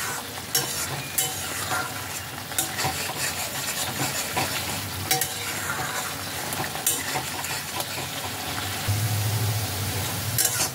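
Pumpkin leaf paste fries in a pan while being stirred until its water cooks off, a dense continuous sizzle with repeated spatula scrapes and small spitting pops, close throughout.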